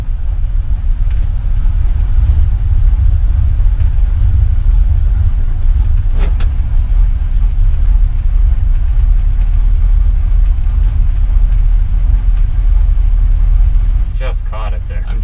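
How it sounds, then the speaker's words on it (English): An old truck engine idling while it warms up after an oil change, a loud, close, steady low rumble throughout, with a brief knock partway and faint voices near the end. "just not going to touch the throttle for a minute, let it warm up"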